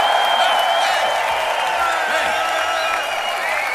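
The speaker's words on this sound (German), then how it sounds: "ihr müsst länger klatschen" A large audience at a rock concert roars and applauds continuously, a thick, unbroken wash of clapping and cheering with occasional whistles, heard from within the crowd.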